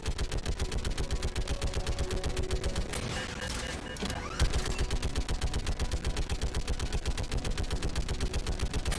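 Enemy gunfire in the sci-fi shooter Mass Effect 3, a relentless rapid automatic stream of close, loud shots with a brief lull midway before the firing resumes.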